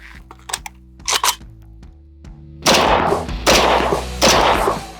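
Three loud, sharp 7.62x39 rifle shots ring out in quick succession, each cracking against a steel armor plate with a bright clang, preceded by a few faint clicks and a steady low hum.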